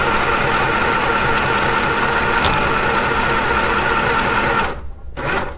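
A sewing machine stitching fabric, a loud continuous close whirring drone that stops briefly near the end before a short restart.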